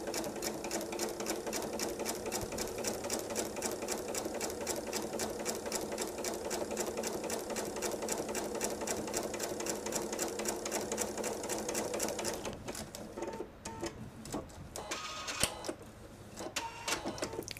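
A sewing machine quilts a patriotic disappearing nine patch table runner, running in a fast, even stitching rhythm for about twelve seconds before stopping, followed by quieter handling noises up close.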